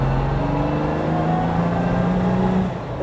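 Lamborghini Miura V12 engine under throttle while driving, a loud, sustained engine roar whose pitch climbs steadily, then fades slightly at the end.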